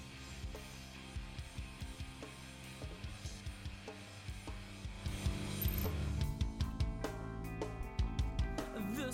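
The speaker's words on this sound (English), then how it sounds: "we're just gonna take all these screws out." Screws being unscrewed from an electric guitar's pickguard, a quiet run of rhythmic ratcheting clicks from a screwdriver turning, close up, growing a little louder and busier toward the end, with no talk.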